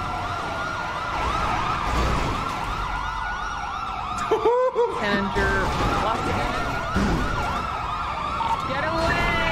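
An EMS ambulance siren in a GTA roleplay game wails in fast, repeating rising-and-falling sweeps, loud and close, while shouting voices talk over it and engine rumble runs underneath.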